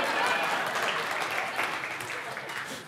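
A church congregation claps during worship, a thick wash of many hands applauding at once that gradually fades over a few seconds, with faint voices mixed in.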